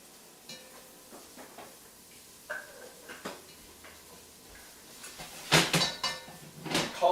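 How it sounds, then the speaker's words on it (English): Bacon bits stuck to the bottom of a pan are scraped loose into a vegetable mixture, giving soft intermittent scrapes and light clinks of a utensil against the pan, growing louder and busier toward the end. "Getting all the good bacon bits that were stuck to the bottom of this pan off into the mixture."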